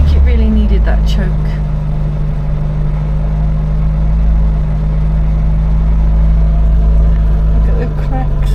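A Triumph Herald Estate engine runs loud and close, choking on its own fuel after too much choke, a rough, low, steady drone with a faint uneven stutter in it.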